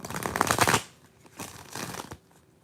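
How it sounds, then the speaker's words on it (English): Two quick bursts of tarot cards being riffled and shuffled close up, a brief pause between them. "Let me get you a good shuffle."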